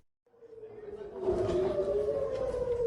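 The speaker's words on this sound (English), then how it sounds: "Air raid sirens sent people running off the streets of Tel Aviv and into the stairwells of buildings." Air raid sirens wailing over Tel Aviv, a single rising tone that swells from silence into a sustained, fairly distant howl.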